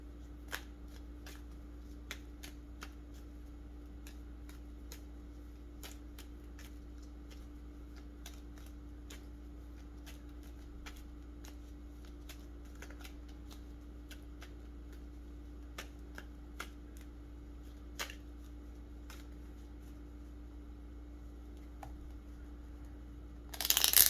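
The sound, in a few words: tarot cards being shuffled and handled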